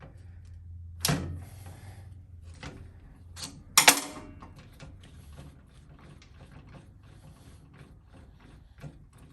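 Mechanical clicks and a ratcheting rattle from a large Phillips screwdriver and a wrench working on a Honda CT70 shock absorber held still in a fixture, with a sharp metallic clatter near the start and a louder one midway, then quieter scattered ticks.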